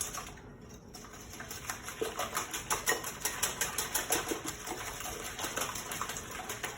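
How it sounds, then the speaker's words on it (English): Eggs are whisked by hand in a bowl until frothy for a kugel, a quick rhythmic clicking and sloshing that is soft at first, then settles into a steady beat of fast strokes. "I also want to get the eggs mixed up. And really get them frothy almost"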